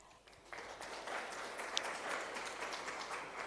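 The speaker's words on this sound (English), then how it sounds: "can we give her a round of applause as she comes up to take her seat as well?" Audience applause as a woman comes up to take her seat at a conference, moderate clapping rising after a half second and continuing steadily, heard from a distance.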